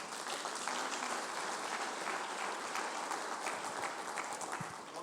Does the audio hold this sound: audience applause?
yes